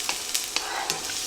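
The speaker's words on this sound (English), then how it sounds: "You hear that sizzle? That's what you want to hear." Peppers and onions fry in a hot pan in short bursts of sizzling, with a few sharp crackles over a steady hiss, close by.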